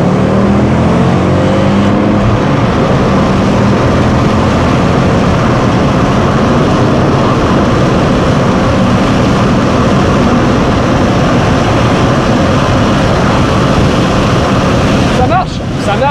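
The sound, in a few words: Ford Focus ST five-cylinder engine accelerating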